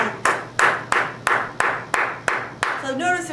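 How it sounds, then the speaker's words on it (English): Drumsticks clicked together in a steady run of about eight sharp, evenly spaced eighth-note taps, close and fairly loud, each followed by a short ringing decay; a brief voice enters at the very end. "I'll clap eighth notes with my sticks"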